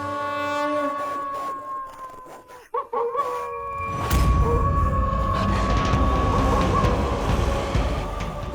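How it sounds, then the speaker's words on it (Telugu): Several long, tonal howls overlap and waver, then a loud rushing, rumbling noise swells up and continues beneath them. "ఇవి తోడేళ్ల గర్జింపు"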